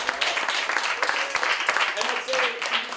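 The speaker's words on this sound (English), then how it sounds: "A round of applause for Nick." An audience claps for a volunteer invited on stage, a scattered burst of applause heard under a voice talking over it.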